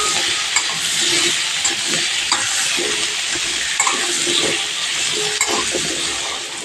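Small potato pieces fry in oil with a dense, steady sizzle and crackle, close and continuous, broken by occasional stirring scrapes.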